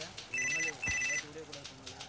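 An electronic ringtone from a telephone chirps in two bursts of repeated electronic tones, set against background talk and ambient noise in a comedy scene.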